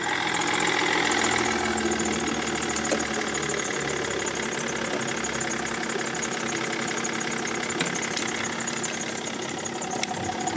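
A BMW X5 engine idles steadily after starting, a continuous mid-pitched hum with a faint knocking texture, close and constant throughout with no talk.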